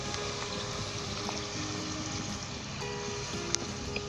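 Water is poured into a pot of chicken gravy as it cooks, a steady close gush with faint clinks and no talking.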